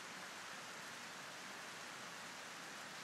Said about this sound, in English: It's raining, and all my animals are out in the rain.